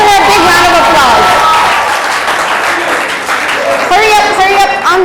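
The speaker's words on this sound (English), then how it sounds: "Let's give her a big round of applause." A crowd applauds loudly and steadily, with voices calling out over the clapping throughout.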